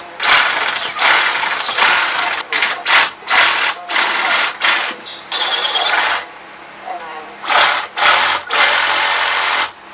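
Loud, harsh power tool whining in repeated bursts with brief pauses between, close by and aggressive, as a hard coconut shell is cut.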